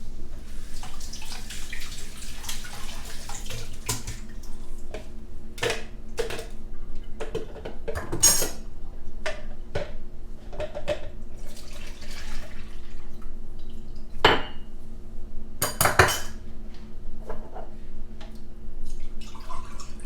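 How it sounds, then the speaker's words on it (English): Water runs into a kitchen sink during rinsing, a steady splashing flow with scattered sharp clinks and knocks of items being handled, close and fairly loud. "Let me rinse these."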